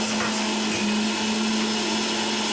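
A Breville Juice Fountain Elite juicer grinds celery: a loud, steady high motor whine with a gritty shredding texture runs unbroken for the whole stretch, with no talking.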